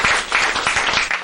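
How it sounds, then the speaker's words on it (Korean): Applause from an audience at a Buddhist sutra lecture, a short burst of many hands clapping, fairly loud and close, with no talk over it. "박수 좀 주세요"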